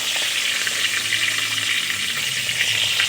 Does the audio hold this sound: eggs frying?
yes